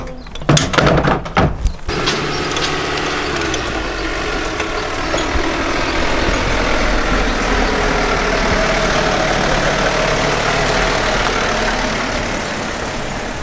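A removalists' truck engine idles with a steady low rumble after a few loud knocks and bangs at the start, then holds a constant droning note as it pulls away.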